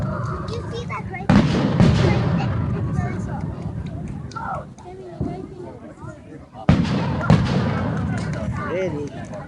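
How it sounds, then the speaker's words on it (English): Fireworks go off in a backyard at night, sounding as two sharp booming bursts followed by crackling and fading rumbles, with people talking nearby. "I love these fireworks"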